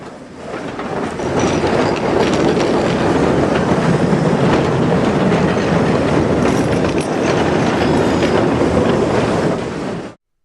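Loud, steady rumble of a train rolling along the tracks, with rhythmic clatter and faint metallic squeals throughout, ending abruptly.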